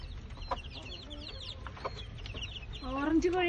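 Hens with their chicks in a home yard: soft, close clucking mixed with high chick peeps, rising in a busier burst of chirping toward the end, with faint background noise.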